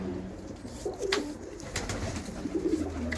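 Pigeons, among them a young white hen kept paired in a loft, give soft throaty coos in short rolling bursts, close by with no talking over them.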